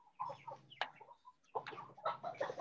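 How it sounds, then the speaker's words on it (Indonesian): Chickens on Bawean island cluck in short, quick bursts, several birds close by and fairly faint, with no talk. "Ada banyak ayam ya di Bawean ya"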